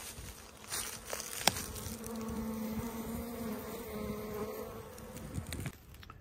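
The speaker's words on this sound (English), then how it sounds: "there's kind of bees on each end, but they seem to be doing just fine" Bees coming and going from a hollow bee tree log, a faint steady buzzing of many insects with individual bees droning past up close, no talk.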